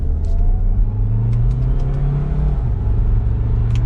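Cabin of a 2022 Kia Sorento SX Prestige AWD hybrid SUV under acceleration, a steady low engine and road rumble filling the interior with a faint rising drone, a few light clicks on top.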